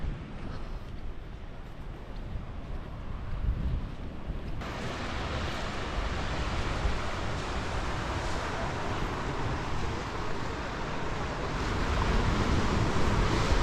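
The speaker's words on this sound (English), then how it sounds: "So we've made it onto the beach." Waves and wind roll across an Irish beach in a steady, loud wash of surf, with gusts buffeting the microphone and the roar swelling slightly toward the end.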